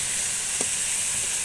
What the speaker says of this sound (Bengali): এই যে আমার মশলাটা কষানো হয়ে যাচ্ছে, ভালো করে নেড়ে চেড়ে নিচ্ছি।